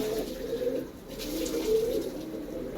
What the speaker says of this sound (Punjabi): ਇਹ ਵੀ ਕਬੂਤਰ ਬਾਈ ਬਲਜੀਤ ਬੋਪਾ ਰਾਈ ਦੇ ਆ